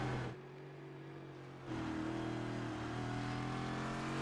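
Race car engine of the number 18 Liquid Death Toyota on its final lap at Suzuka in iRacing, a steady high drone that drops briefly, then swells back up and holds its pitch.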